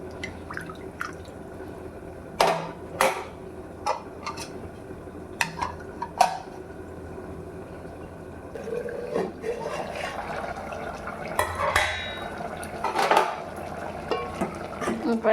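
Cooked eggplant and tomato are mashed with a ladle in a pot, giving soft squelches and scattered metallic clinks and taps, irregular and close, with quiet moments between strokes.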